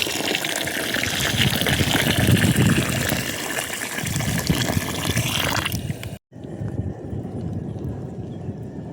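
Water pours steadily over rice in a vessel to soak it for egg dum biryani, a loud continuous gushing splash that stops abruptly, then quieter handling noise follows.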